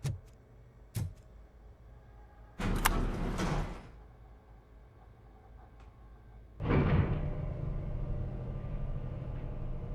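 Sliding elevator doors in the RoboCop: Rogue City video game, heard as two loud mechanical whooshing rumbles about four seconds apart over a low steady hum, with a couple of small clicks earlier.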